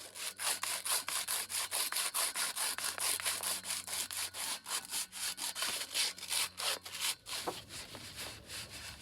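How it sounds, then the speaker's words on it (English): Steady back-and-forth rasping of sandpaper on a metal exhaust pipe, many quick even strokes in a continuous rhythm, close up, ending with a softer pause. "I am going to run some sandpaper over top of it. Here's what that looks like for sanding"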